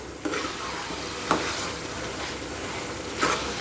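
Bread halwa mashed and stirred in a pan, a low sizzle running throughout with a few sharp spoon knocks against the pan, close up and with no voices.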